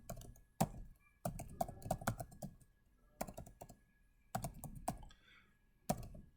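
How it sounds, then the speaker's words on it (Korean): Computer keyboard typing comes in irregular bursts of quick, close keystrokes, separated by short pauses, with no talk. "타자 너무 못 치죠"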